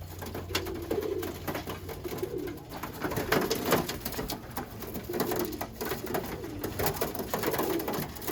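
Soft, repeated cooing of Birmingham Roller pigeons nearby, low murmuring calls rising and falling over light rustling and background noise.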